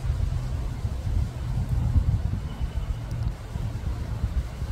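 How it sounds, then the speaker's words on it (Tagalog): Wind gusting through a backyard flower garden behind a house, heard as a continuous low rumbling buffet that swells and eases, fairly loud and close, with no voices. "Mahangin. Mahangin na mahangin."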